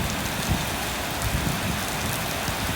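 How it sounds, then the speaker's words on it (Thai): Heavy rain in a tropical storm with strong wind at Pattaya, Thailand, a dense, steady hiss of downpour drumming on surfaces, close and continuous with no voices. "ทั้งฝนทั้งลมมานู่นเลยทุกคน"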